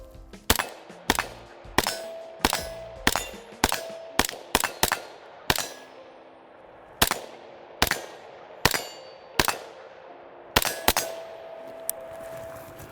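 An MK18 rifle fitted with a Huxworks Flow 5.56K suppressor fires about twenty shots in irregular bursts. Each suppressed shot is a sharp crack with a metallic ring, and brief pauses separate the groups of shots.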